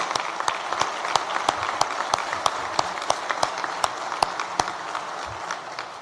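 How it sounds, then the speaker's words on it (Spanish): An audience applauds at a government event in Hidalgo, steady dense clapping from a crowd at a moderate distance, with a few sharper individual claps standing out. "yo pido que sí demos aplauso para el estado de Hidalgo por esto"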